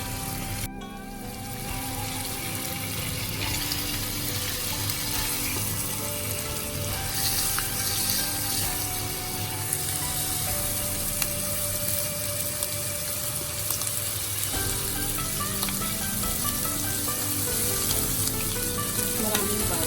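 Pork steak fries in plenty of butter, giving a continuous loud sizzle and crackle close up, with a faint tonal hum running underneath throughout.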